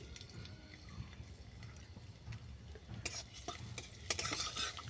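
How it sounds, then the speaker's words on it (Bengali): Chopped garlic fries in hot mustard oil in a wok, a soft steady sizzle with scattered scraping stirs and utensil clinks growing busier toward the end. "কড়ার মধ্যে দিলাম সর্ষের তেল তেল গরম হয়ে গেছে দিলাম কুচানো রসুন"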